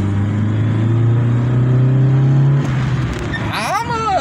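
A Chevrolet Corsa Wind 1.0 fitted with a Shutt sport air filter drones loudly and steadily up close, then its engine note sweeps upward as the car accelerates near the end.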